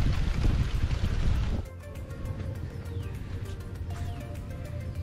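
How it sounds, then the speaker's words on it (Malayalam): Wind blows over a small bridge among paddy fields in Kuttanad, Kerala. A loud gusty rumble buffets the microphone at first, then eases into a lighter, steady rushing with faint background tones. "നല്ല കാറ്റുണ്ട്"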